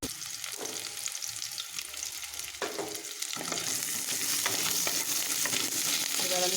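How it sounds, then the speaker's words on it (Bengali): Green chilies, ginger and nigella seeds sizzle and crackle loudly in hot oil, with stirring scrapes over the first half before the frying hiss swells and stays dense and continuous. "এবার আমি ওই তেলের মধ্যেই কাঁচা লঙ্কা ফোড়ন দেব, আর এই আদা কুচিটা দিয়ে দেব।"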